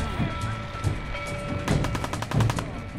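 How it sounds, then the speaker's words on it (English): Gunfire in Fallout 4, a burst of rapid repeated shots in the latter half over a steady ambient rumble, with scattered fainter bangs earlier. "I hear the gunshots, I just do not know where they're coming from."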